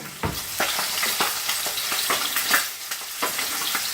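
Pork chops sear in a hot pan, a steady close sizzle and crackle broken by sharp spits and pops scattered across the whole stretch, with no voices.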